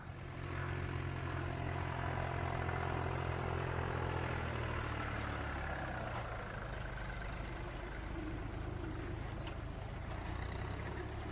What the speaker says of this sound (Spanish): Si el tractor hace este cometido por ellas, ya ni siquiera les molesta el ruido del motor.